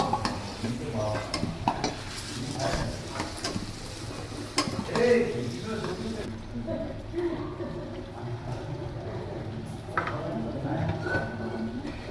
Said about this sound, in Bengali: এই কড়াইতে তেল দিয়ে পেঁয়াজটা ভেজে নিচ্ছি।